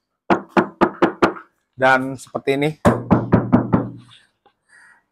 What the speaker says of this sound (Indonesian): di kap mesin ini suaranya seperti ini ya